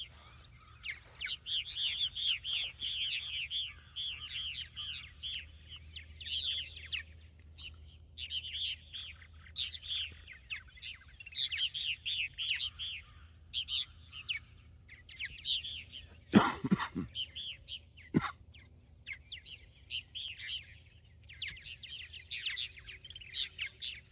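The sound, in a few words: martins chirping around the farm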